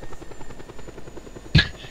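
A helicopter in a video game thrums with a steady, rapid rotor chop throughout, fairly loud and close, broken near the end by a brief sharp burst of noise.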